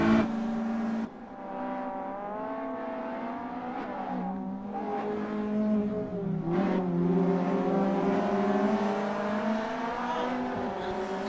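Race cars in a GTi Challenge race, engines whining and rising in pitch as they accelerate through the closing laps, a continuous close drone.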